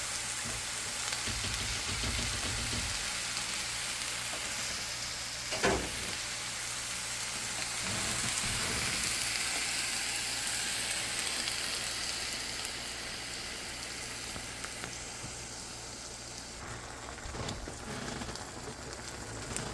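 Butter chicken sauce sizzles and crackles in a hot pan with a soft, steady hiss and a few louder spits and stirring scrapes, fairly quiet throughout.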